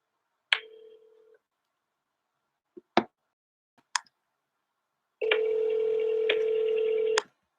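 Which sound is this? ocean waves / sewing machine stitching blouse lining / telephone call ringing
telephone call ringing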